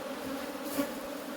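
A steady, close buzzing hum of honey bees during a hive inspection of a new swarm, continuous and even with a slight swell midway.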